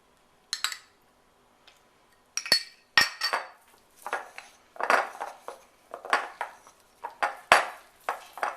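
A spoon clinks against a bowl while stirring cinnamon roll icing, giving a series of sharp metallic taps and scrapes in an irregular rhythm, close and fairly loud, with no talking.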